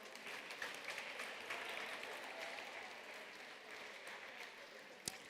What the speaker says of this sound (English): Another round of applause for this phenomenal panel